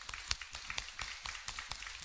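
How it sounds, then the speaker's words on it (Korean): Church congregation applauding in welcome for a visiting guest at a Sunday service, a faint, thin scatter of separate claps with a few sharper hits, no voices. "우리 박수로 좀 환영하겠습니다"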